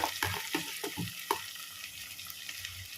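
Ginger-garlic paste sautéing in a pan for tomato kuzhambu, a steady close sizzle with a quick run of spoon scrapes and stirs at the start, then the frying carries on alone.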